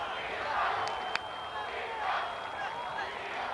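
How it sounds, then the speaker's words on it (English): A stadium crowd at the Los Angeles Coliseum roars and chants a player's name during a 1996 CONCACAF Gold Cup soccer match between Canada and Brazil, a broad distant swell that rises and falls with one sharp crack partway through. "you can hear the crowd in the Los Angeles Coliseum chanting Dida, Dida."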